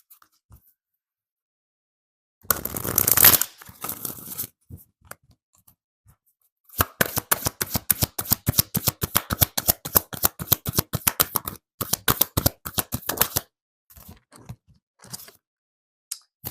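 An oracle deck is shuffled by hand, first in a short, dense riffle and then in a long run of rapid, crisp card flicks that thin out into a few final taps, close and alone.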